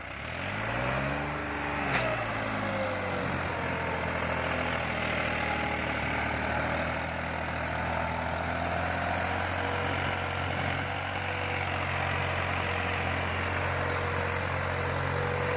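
A turbocharged tractor diesel engine runs steadily with a low, continuous drone, revving briefly near the start and then holding an even idle.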